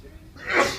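A single short sneeze bursts out partway through in a classroom, fairly close and loud, just after a brief spoken word.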